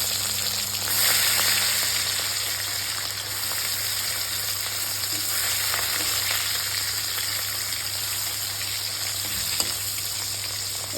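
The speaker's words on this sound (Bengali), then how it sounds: "মাছ 4 পিস খুব সুন্দর করে ভাজা হয়ে গেছে" Four pieces of freshwater pond rohu fish fry in hot oil in a wok, giving a steady, dense sizzle with soft crackle that holds at an even level throughout, and no voices.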